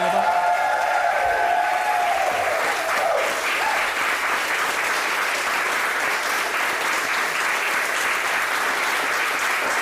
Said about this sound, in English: Let's make some noise for Master Villanueva